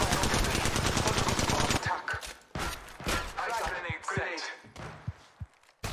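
Rapid bursts of gunfire aimed at the player in Apex Legends, loud and continuous at first, then breaking into scattered single shots and short volleys with gaps between them.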